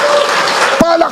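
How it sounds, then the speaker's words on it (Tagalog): Applause at a church worship gathering, a steady wash of clapping hands from a crowd, with a voice briefly rising above it near the end. "Palakpakan. May kasamang hiyawan."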